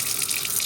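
Tap water running onto a stone lapping plate as it is wetted, a brief steady hiss of flowing water heard close and alone.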